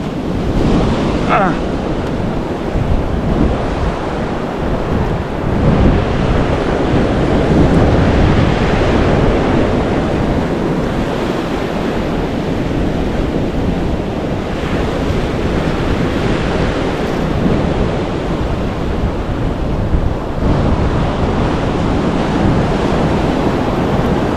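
Atlantic Ocean surf breaks continuously on a beach where a dangerous current pulls swimmers out, a loud, dense wash of waves heavily mixed with wind buffeting the microphone for the whole stretch.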